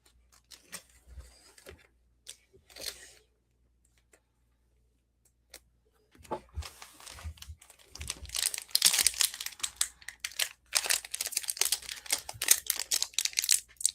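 Foil-wrapped Upper Deck New York Rangers hockey card packs crinkle and tear open, sparse ticks at first then dense, close crackling bursts of wrapper handling, with small scissors used on stubborn packs.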